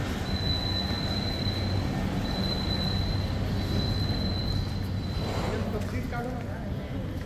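Steady rumble of a metro train at Worli station, Mumbai, with a thin high electric whine that stops and starts, and voices faintly beneath.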